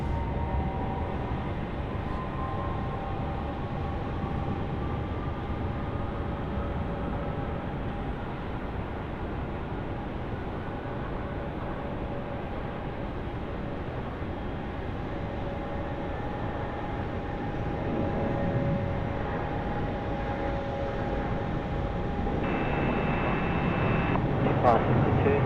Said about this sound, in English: It's the Qantas 100 now, the 787 service going to Honolulu, runway left